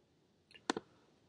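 A few faint mouse clicks made while placing a pizza order: a soft tap followed by two sharper, close-together clicks, short and isolated against quiet room noise.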